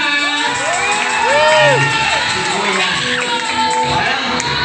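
At a christening and first-birthday party, a group of children and adults cheer, shout and whoop together loudly and continuously, with rising and falling yells layered over a dense crowd roar.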